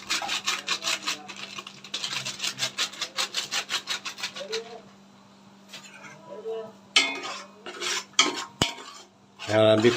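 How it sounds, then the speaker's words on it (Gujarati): Spices including Kashmiri red chili are stirred and mixed in a pan, giving fast rhythmic scraping strokes up close, then a pause and a few heavier scrapes and knocks. "મિક્સ કરી આપણે મિક્સ કરી દેવું."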